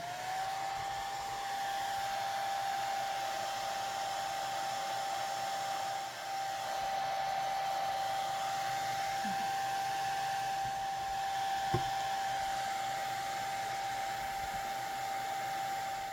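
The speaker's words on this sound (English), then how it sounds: "The hairdryer on low." A hair dryer set to low hums at a steady pitch the whole way through, close and constant, starting within the first second, with a brief dip near six seconds and a small knock near twelve.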